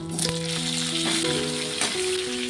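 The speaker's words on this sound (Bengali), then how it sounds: "এখন আলুটাকেও ভেজে নেব।" Potatoes frying in oil left over from frying prawns, a close, continuous sizzle with brief clinks and spatters, no talking.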